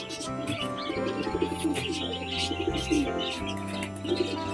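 Pet pigeons coo in soft, repeated throaty phrases close by, overlapping with light chirps and a few bird calls in a busy backdrop, with no talking.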